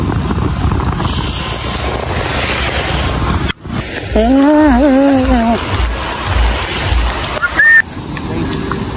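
Roaring Randha waterfall near Bhandardara, a loud steady broadband rush of falling water in heavy rain, with voices talking over it in the middle.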